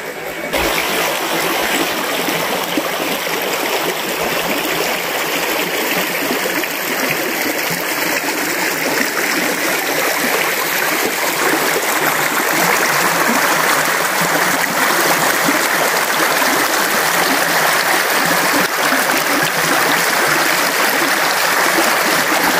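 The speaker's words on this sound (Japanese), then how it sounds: "水の音が心地よかったのでしばらくお楽しみください。" Spring water flows in a small stream beside the Izumi Line road between Kai-Koizumi and Ōizumi stations on a spring morning, making a steady, close, even rushing and babbling that continues without a break.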